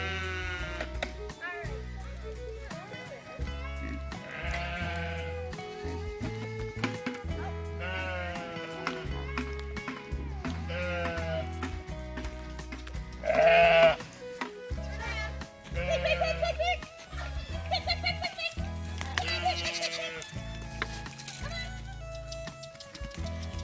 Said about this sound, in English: this is when we gather every goat in the yard